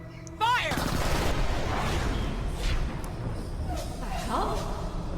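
Gunfire erupts in the shooter game Borderlands: The Pre-Sequel, a sudden burst followed by sustained rapid shots, whooshes and booming impacts over a dense, noisy mix.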